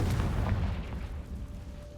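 Confringo fire spell explosion in the Hogwarts Legacy video game: a deep, rumbling boom that starts strong and slowly fades over two seconds.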